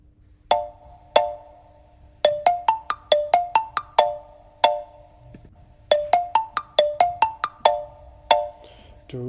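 Bright, bell-like electronic keyboard tones for an aural chord test, single notes sounded one after another in quick arpeggiated runs, then repeated after a short pause, each note decaying quickly, clear against a quiet background.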